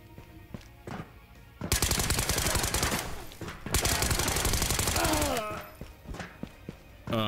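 Automatic gunfire rattles out in the video game Ghosts of Tabor, with two long, loud sustained bursts of rapid shots broken by a short pause and scattered single shots around them.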